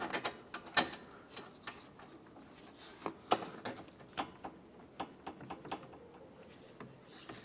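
A refrigerant line nut on the AC condenser of a 2012-2020 Ford Focus is threaded on and tightened by hand, giving a close, irregular run of sharp mechanical clicks and ratchet-like ticks with no talk.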